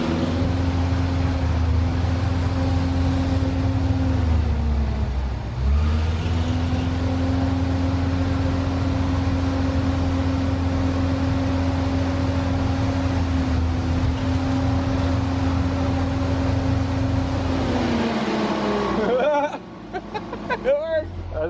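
An old abandoned boom lift's engine running at a steady idle, a low constant drone that dips briefly and then holds before cutting off near the end, with faint clatter afterward.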